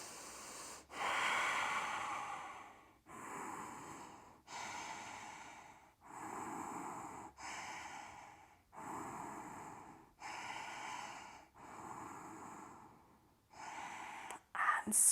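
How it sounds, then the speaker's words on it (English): Slow, deep breathing during postnatal yoga with pelvic floor work: about six long, steady inhale-exhale cycles, each a soft airy rush lasting over a second, close and quiet, with no talking. "take 5 long inhales and exhales in your own time"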